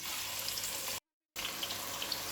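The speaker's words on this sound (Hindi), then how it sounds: "प्याज को इसे कंटिन्यूअसली चलाते रहिएगा ताकि हर एक लेयर ऑफ प्याज इवनली फ्राई हो सके।" Sliced onions frying in hot oil in a handi for birista, a steady broadband hiss and crackle of sizzling oil, fairly close, cut by a brief gap of silence partway through, with no talking.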